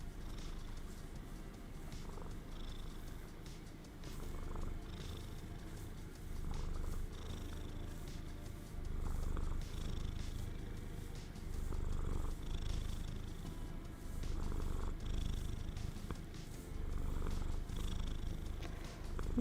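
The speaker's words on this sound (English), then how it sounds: "She's purring like a baby." A cat purrs close to the mic in a soft, steady rumbling rhythm that rises and falls with each breath, continuing unbroken for the whole stretch.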